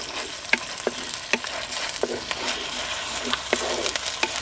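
Onions and ginger garlic paste fry in a pan for Hyderabadi kheema khichdi, a steady, close sizzle punctuated by regular sharp scrapes and taps of a spoon as the mixture is stirred, with no speech.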